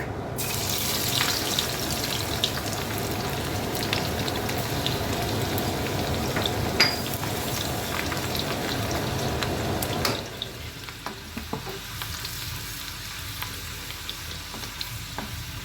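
Mustard seeds and garlic fry in hot oil for Schezwan-style chilli sauce, making a dense, close sizzle that quiets noticeably partway through, leaving a softer crackle and faint clinks.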